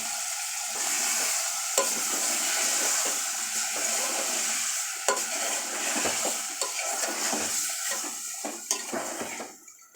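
Boiled mutton liver fries with ginger garlic paste in a pan under a constant loud sizzle, while a spoon stirs and scrapes the pan in irregular strokes. No one speaks.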